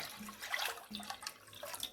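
Rose cordial and water being poured into a chilled ice cream mix in a kitchen, a light liquid trickle and splash that runs in short bursts over a couple of seconds, fairly quiet and close.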